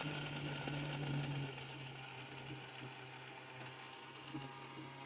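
A mixer grinder whirs steadily as it grinds homemade Glucon D powder, a faint, continuous motor hum with a slight tonal drop after the first second and rattling grit throughout.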